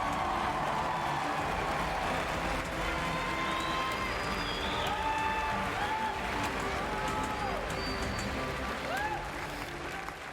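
Sustained audience applause and scattered cheers fill a large hall at the Bethesda E3 2019 showcase, loud and steady for about ten seconds with a few whoops rising above the clapping.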